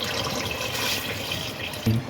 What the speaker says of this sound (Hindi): और अब इसके अंदर पानी डाल दें।